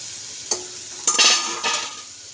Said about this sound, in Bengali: মশলাগুলো কষে নেব। তো এটা একটু মশলাগুলো কষা হোক, তার সাথে টমেটোটা দিয়ে দেবো।